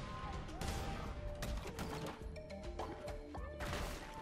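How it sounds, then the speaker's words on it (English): Rocks explode in the Cult of the Lamb video game, a rapid run of sharp crashing blasts and impacts layered with game music and effects, loud and dense throughout. "And those things explode, and the explosion hurts"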